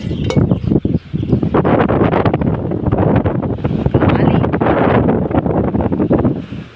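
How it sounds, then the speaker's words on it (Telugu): Strong wind buffets the microphone outdoors in a gongura leaf plot, a loud, steady broadband rumble with gusty surges that runs almost the whole time. "విపరీతంగా గాలి అయితే వస్తుంది వస్తుంది మీకు నాకు తెలిసి గాలి వల్ల నా వాయిస్ క్లారిటీగా ఉండకపోవచ్చు"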